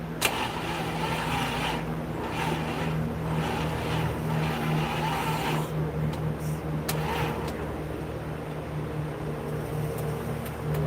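A Curtiss P-6 biplane aircraft engine turns over and runs with a steady droning hum and rough mechanical rumble, moderately loud and continuous, with a few sharp clanks along the way.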